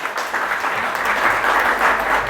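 A church congregation at a sermon breaks into brisk, full applause, many hands clapping together in a dense, even burst that fills the room for a couple of seconds.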